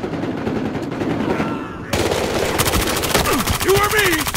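Automatic weapon fire during a bank heist match in the video game Battlefield Hardline, loud sustained bursts throughout, growing denser and sharper in the second half, with a faint background voice.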